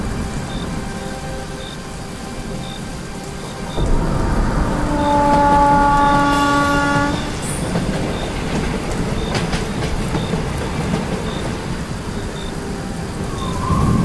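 A passenger train runs steadily at night, its wheels rattling over the rails with a continuous rumble that swells after a few seconds, while brief tonal squeals and hums ride on top.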